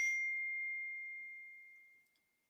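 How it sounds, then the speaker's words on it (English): A single bright mobile phone notification ding rings out clearly and alone, its tone sustaining and slowly fading over about two seconds into silence. "Phone's still going off like a good one."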